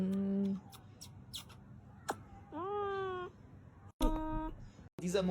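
Cat meows several times in short, close, plaintive calls separated by pauses, with brief clicks and other noises between them.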